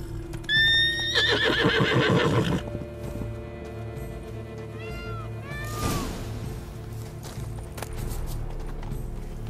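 Roach the horse whinnies loudly in The Witcher 3, a rising, quavering neigh up close, followed by a second fainter call over a low steady ambient hum with faint hoof clops.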